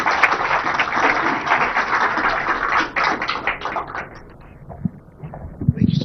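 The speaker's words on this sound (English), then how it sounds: "Please join me in giving the Honorable IT Minister a big round of applause." An audience gives a round of applause for the IT Minister at the launch of Google's Safety Engineering Centre: dense clapping that thins into scattered claps and fades toward the end.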